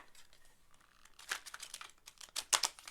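Tarot cards are shuffled by hand in a quiet room, giving soft riffles and crinkly bursts of paper noise that grow busier toward the end.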